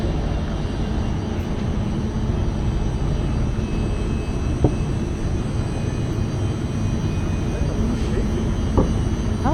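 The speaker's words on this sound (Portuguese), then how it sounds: "Vamos pegar o comboio para ir embora então" A Lisbon commuter train rumbles steadily in a loud, continuous low roar with faint metallic squeals and clicks over nearly ten seconds, with voices faintly audible in the background.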